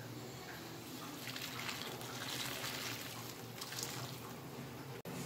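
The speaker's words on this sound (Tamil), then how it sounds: "நல்லா கொதிக்கிற தண்ணியை ஊற்றிக்கோங்க." Boiling water poured over amla (Indian gooseberries) in a bowl, a steady close splashing and trickling stream running continuously throughout, with no talk.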